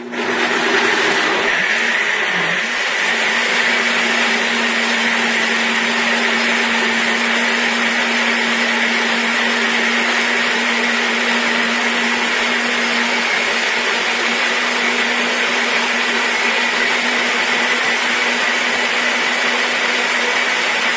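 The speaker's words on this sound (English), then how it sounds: "place your lid on to the blender, and you will blend this." A blender runs continuously at high speed, a loud, steady motor whir with a droning hum that hardly changes throughout.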